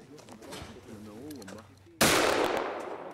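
A hunting gun fires a single loud, sharp shot during boar hunt safety training outdoors, after someone speaks and a bird coos nearby, the blast trailing off into echo.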